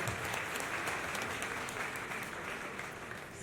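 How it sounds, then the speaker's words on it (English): Applause from an audience at a book event celebrating a crime thriller bestseller, brisk dense clapping that stays steady and fairly loud across the whole stretch. "So we give a round of applause for that."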